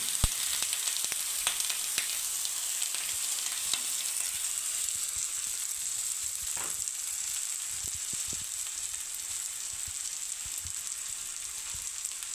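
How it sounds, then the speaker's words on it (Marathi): A steady, close crackling sizzle of a thalipeeth made from leftover khichdi frying on an oiled griddle, holding an even level throughout with no voices. "आता आपण हे थालीपीठ व्यवस्थित असं कापड पकडून तव्यावर टाकून देऊ."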